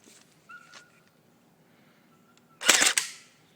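A Cybergun M1A1 Thompson airsoft electric gun fires a single semi-automatic shot, one sharp close snap with a brief mechanical whir after a quiet stretch of faint handling clicks.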